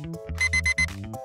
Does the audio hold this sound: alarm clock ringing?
yes